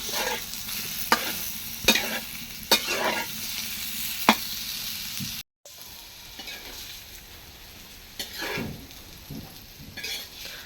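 Pointed gourd frying in a pan, a soft continuous sizzle broken by sharp clicks of a utensil stirring against the pan, close and fairly quiet, with a brief cut partway through.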